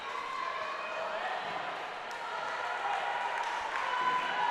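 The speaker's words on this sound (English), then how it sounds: "As you can really hear this crowd rocking now" Continuous crowd noise fills a high school volleyball district semi-final gym, a steady roar of cheering and voices holding at an even level throughout, with faint squeaks and thuds from play beneath.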